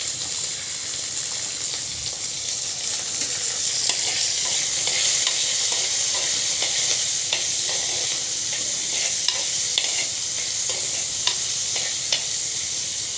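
Chopped onions fry in a pan with a steady hiss and crackle while a spoon stirs and scrapes through them, with soft clicks recurring throughout and no talking.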